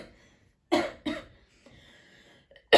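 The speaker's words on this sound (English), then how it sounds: "All of a sudden I felt like I need to cough." A person coughs indoors: two sharp, close coughs in quick succession, a short quiet stretch with faint throat sounds, then another abrupt cough at the end.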